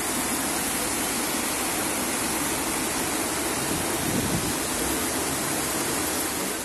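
Floodwater from a heavy downpour rushes down Avenida Ascendino Melo in Vitória da Conquista, a continuous loud roaring wash of water with a faint engine rumble underneath and no voices.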